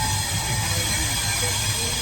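A Mumbai local train bound for CST rumbles steadily along, a loud continuous low drone and hiss from close by.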